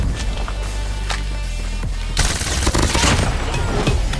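Shotgun blasts in the mobile shooter Call of Duty Mobile, with several sharp, loud broadband bursts over a dense game soundtrack, the heaviest volley arriving in the second half.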